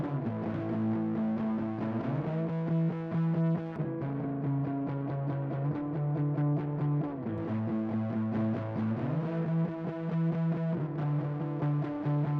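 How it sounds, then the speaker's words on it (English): Electric guitar chords with red light distortion kicked in ring out loudly and continuously, shifting between a few sustained chord shapes with a thick, saturated, processed tone. "So we kick that red light distortion in, and it really opens up our top end on the guitars"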